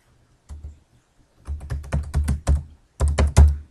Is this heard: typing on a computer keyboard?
yes